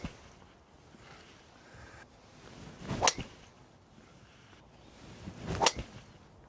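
Two swings of a Titleist GTS driver each end in a sharp whoosh and crisp strike of a golf ball, spaced a few seconds apart against a quiet outdoor background.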